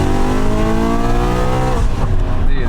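A BMW E92 M3 engine revs hard under acceleration, a loud, close, rising roar that climbs in pitch for about two seconds before easing into a rougher, lower growl, with no voices over it.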